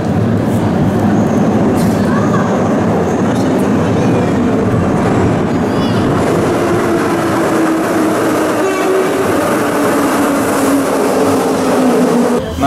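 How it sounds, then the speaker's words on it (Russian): An electric suburban commuter train in Kyiv rumbles loudly into a station, a heavy continuous roar with screeching brake tones rising as it slows nearby. "Ждем электричку, сейчас подъезжает."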